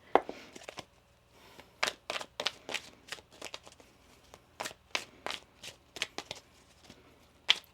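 A deck of tarot cards is shuffled close up in a quiet room, giving a series of crisp riffling bursts and soft taps in an irregular rhythm, with no talking.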